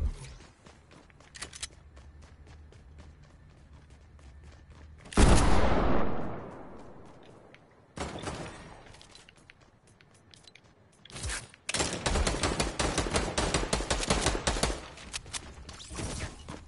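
Rapid gunfire sprays in a video game, with bursts of shots, a big booming blast and dense rattling volleys in bunches over a constant low background, and no talking.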